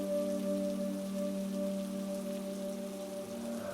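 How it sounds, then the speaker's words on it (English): Steady rain falls on a city street at night as a continuous soft wash, with a low sustained droning hum running underneath throughout. "rain smacking her face like it had been waiting for her"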